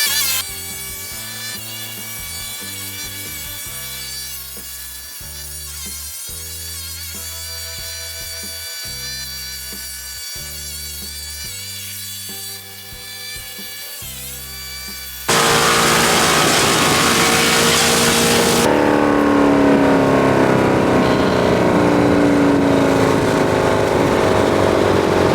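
A Motor EVO 150 wood chipper with a hammer roller shreds branches, its loud steady engine roar and grinding crunch rising sharply partway through and holding dense and close to the end, with no talk.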